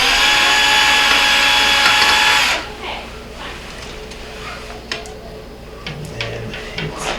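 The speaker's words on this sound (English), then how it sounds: "so I'm going to take that 1/4 inch screw out." A 1/4 inch screw comes out of the junction box cover on a Whirlpool dishwasher that is not getting power. A loud whirring driver runs for a couple of seconds, then stops, followed by faint clicks and handling sounds.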